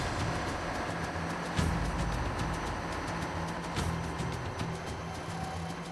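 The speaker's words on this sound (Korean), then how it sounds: "엔진이 분주히 움직이자 검사원들도 바빠지기 시작했다." Large ship's engine on a roughly 10,000-ton vessel running during an engine inspection after dry-dock repairs, a steady dense mechanical roar with rhythmic knocking pulses, loud and continuous with no talk.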